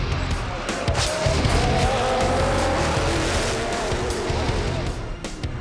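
Onboard an Audi GT race car at a race start, engine roaring loudly with tire squeal and sharp contact thumps as cars collide in the first corner, a commentator talking over the din.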